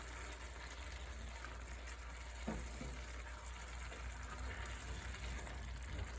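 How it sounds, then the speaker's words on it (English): Food sizzles steadily in a pan, a soft continuous crackle and hiss at low volume, with no talking. "Sizzling away, looking good."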